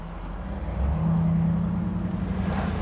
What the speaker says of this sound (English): Really, really nice car, sitting here idling nicely.